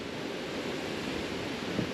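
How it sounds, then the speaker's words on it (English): Waves wash onto a beach on Bali, a steady broadband surf roar with a light wind rush, continuous and fairly close, with no voices. "we've got a beautiful beach right next to us."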